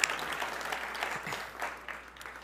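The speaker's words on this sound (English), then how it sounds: "So I will ask you to do an applause for all the Polygon team" A conference audience at Devcon VI in Bogotá applauds the Polygon team, a steady field of clapping held at a moderate distance that fades slightly toward the end.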